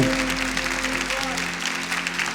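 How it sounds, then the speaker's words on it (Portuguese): Church congregation applauds during a Catholic sermon, a steady, even wash of clapping over a constant low hum throughout. "Vamos aplaudir essa palavra?"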